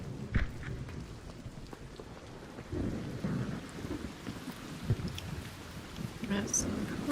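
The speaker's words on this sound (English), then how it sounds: "Now, these lightning strikes are the worst." Lightning strikes and rolling thunder with rain in the video game Arc Raiders, a sharp crack followed by booming rumbles that rise and fade over steady rainfall.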